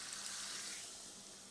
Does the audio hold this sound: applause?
no